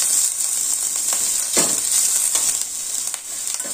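Chopped onions sauté in hot oil in a kadai, giving a steady close sizzle broken by a few scraping stirs of a spoon against the pan.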